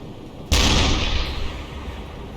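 A deck gun firing a shell in the U-boat video game UBOAT, one sudden loud boom followed by a decaying rumble and a hissing tail.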